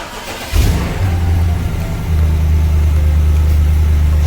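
A BMW car engine cold-starting on a street at night: a brief crank, then a loud catch into a deep, steady, high idle that drones on close by.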